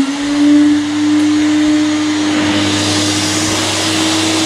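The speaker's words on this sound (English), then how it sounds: "So I'd say on with the vacuums." Several vacuum cleaners pull air through a DIY vacuum-forming rig for an RC car body shell, a loud, close, steady motor drone with a rushing airflow hiss throughout.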